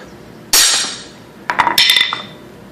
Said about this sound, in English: piece of wood holding up the two sides, and then a small sledgehammer.